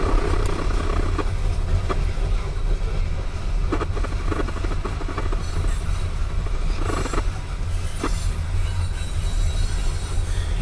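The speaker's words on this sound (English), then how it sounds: "Nice to see a loaded coal train on a Saturday." A loaded Norfolk Southern coal train passes at North Adams, Massachusetts, a continuous loud rumble of railcars with faint wheel squeals and clicks, heard close and steady throughout without talk.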